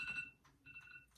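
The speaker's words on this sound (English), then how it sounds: "We have a little timer, or else we will just go on and on and on." A small timer alarm sounds, a thin steady electronic beeping in two short bursts with a brief gap, faint and alone in a quiet room.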